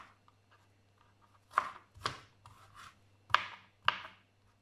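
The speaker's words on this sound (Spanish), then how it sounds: "lo vamos cortando cuadritos pequeños" Vegetables diced into small cubes on a cutting board in a home kitchen: a handful of sharp knife chops, irregularly spaced with soft scraping between, close and fairly quiet against a low steady hum.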